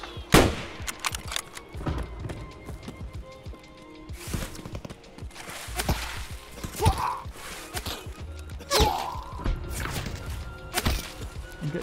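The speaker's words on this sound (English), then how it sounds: "I'm getting fucking shot at from I don't know where." Gunfire in Escape from Tarkov, irregular shots and short bursts at varying distances that mix with footsteps and rustling movement, with no talking.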